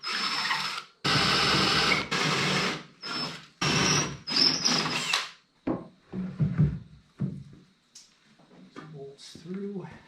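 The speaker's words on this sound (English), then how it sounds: "now we have to drill through the metal." A power drill bores through the metal frame of a small trailer being decked, giving several loud whirring bursts of a few seconds each with short pauses, followed by someone speaking briefly.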